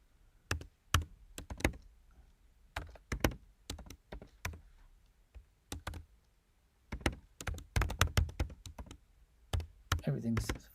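Computer keyboard typing while programming music in Sonic Pi, heard as close, irregular bursts of sharp key clacks and thumps with short pauses between flurries.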